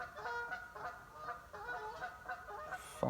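A flock of geese honks repeatedly at a fishing lake, a steady overlapping chorus of honks that sounds moderately distant and faint, with no talk.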